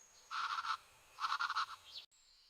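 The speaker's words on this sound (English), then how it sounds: "I hear birds singing." Two short bursts of rapid, bright bird chirping, a pause between them, fairly quiet against a soft background hiss.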